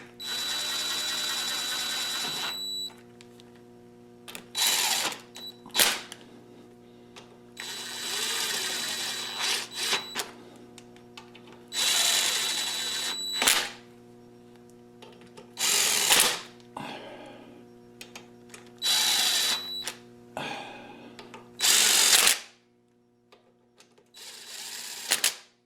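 A power tool whirs in repeated short bursts separated by pauses, slowly running bolts down on a DuroMax or Predator small engine, with a steady background hum throughout.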